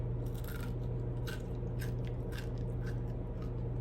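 A dry salmon chip is bitten and crunched up close, giving a series of sharp, brittle crunches at a steady chewing rhythm over a low background hum.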